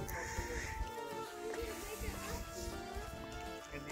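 Sheep at a sheep farm near Taufkirchen and Oberhaching in Bavaria bleat several times at a moderate distance while people talk over them.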